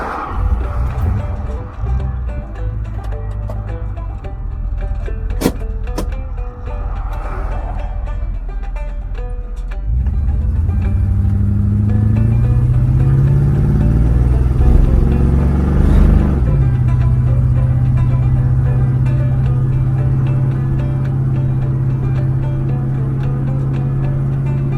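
A 1961 Chrysler Newport's V8 idles with a steady low rumble, then its engine note swells and holds a louder, deeper drone as the car pulls away, close by.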